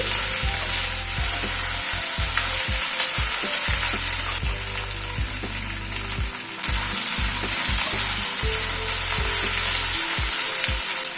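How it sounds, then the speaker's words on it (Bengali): Ginger and garlic paste frying with onion and capsicum for a vegetable sabji: a loud, steady oily sizzle runs throughout, broken by repeated scraping stirs of a spatula in the pan, with no talking. "রসুন আর আদাটাকে একটু পেঁয়াজ ক্যাপসিকামের সাথে হালকা করে ভেজে নিচ্ছি।"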